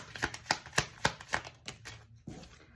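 Tarot cards are shuffled in quick riffling bursts, a series of crisp, close snaps and flutters at a steady rhythm before a brief pause and a final softer shuffle, with no voice.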